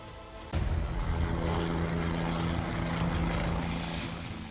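A rescue helicopter flies near Kedarnath Dham at Linchauli in bad weather during an evacuation. A loud, steady rotor and engine roar kicks in abruptly and holds close for several seconds.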